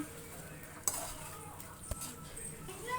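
Chicken pieces stirred with ginger paste in a pan for pepper chicken fry: soft scraping and a couple of metal clinks from a spoon against the pan over a faint background, with no talking.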